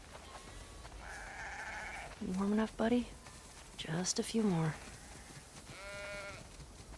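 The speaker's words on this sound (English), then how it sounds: "We definitely have way too many sheep." Sheep bleats in The Last of Us Part II, a wavering bleat at the start and another near the end, with a person speaking quietly in between over low ambient background.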